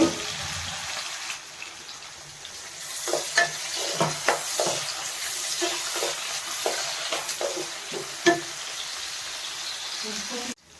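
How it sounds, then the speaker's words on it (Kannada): Chopped onions going into a hot pan for hotel-style chicken dum biryani, a steady sizzle with stirring scrapes and taps throughout, close up, with a voice speaking over it at times. "ಒಂದೆರಡು ಆನಿಯನ್ ಕಟ್ ಮಾಡ್ಕೊಂಡಿದ್ದೀನಿ ಇದನ್ನು ಹಾಕೋತಾ ಇದ್ದೀನಿ"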